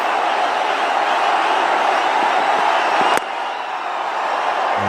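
A cricket stadium crowd roars with a dense, continuous wall of cheering and noise at Dhoni's home ground, loud and sustained, with a sharp cut partway through.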